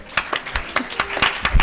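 Applause from a conference audience at a live talk, a brief patter of scattered claps that rises and falls quickly, moderately loud.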